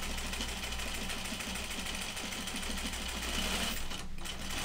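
A home sewing machine with a twin needle stitches a denim bib seam, its steady rapid mechanical chatter running continuously and close up, with no voices.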